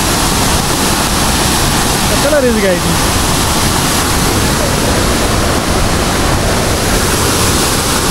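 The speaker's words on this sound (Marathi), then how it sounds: "आमच्या गावचे आठवण झाले यार या धबधब्याला बघून।" The Dhangar waterfall near Badlapur roars in a constant, loud rush of falling water during heavy monsoon flow, with a brief spoken remark partly over it.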